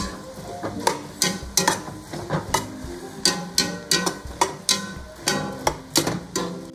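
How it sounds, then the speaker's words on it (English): Potato slices are stirred into a pot of vegetarian vegetable stew, giving a steady run of clattering, scraping knocks from the spoon and pot, moderately loud and close, with no talking. "So now we're just gonna put the potatoes inside. Give it a mix."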